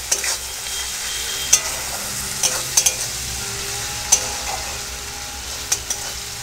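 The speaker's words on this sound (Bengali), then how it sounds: "এবার পেঁয়াজ আর কাঁচা লঙ্কা ভেজে নেব তেলের মধ্যে।" Onion, green chili and garlic paste fry in mustard oil with a steady hiss. Occasional sharp clicks from a stirring spoon scraping the pan cut through the sizzle, close by and with no talking.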